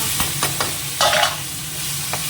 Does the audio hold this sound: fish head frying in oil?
yes